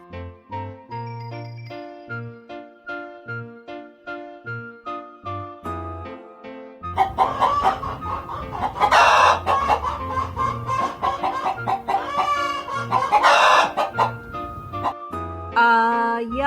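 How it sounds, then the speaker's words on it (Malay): A chicken clucks and a rooster crows, with the animal calls rising loud over a tinkling, jingly music backing that plays alone for the first several seconds. "Ayam."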